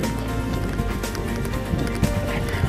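Hooves of a horse ridden in a dressage lesson thud in a steady rhythmic clip-clop, close and continuous over a broad background rumble.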